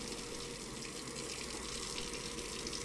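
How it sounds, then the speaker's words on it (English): Water runs from a sink tap in the game Brewmaster, a steady unbroken gush at constant level, quiet and alone with no voices. "Listen to that running water."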